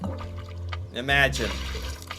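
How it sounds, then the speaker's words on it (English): A bucket being filled with clear lake water at a Norwegian cabin, heard as a brief splashing gush of pouring water under a voice talking. "We take a buckets down here to the lake, and then we just fill it up."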